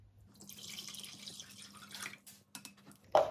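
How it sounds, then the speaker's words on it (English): Hand-warm water poured into a bread dough mixture, a soft close trickle and splash against a low steady hum, ending in a brief louder clatter. "So now let's pour in the water."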